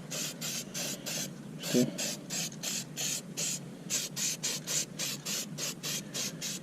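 Black Rust-Oleum Farm and Implement paint hisses from a spray can onto a lawn mower deck in short, rhythmic bursts, about a dozen quick passes close up, with a brief spoken word early on.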